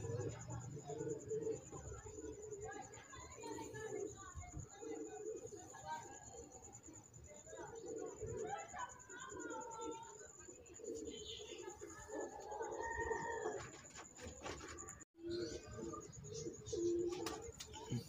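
Teddy pigeons cooing softly and repeatedly, close by, beneath steady talk and faint background noise.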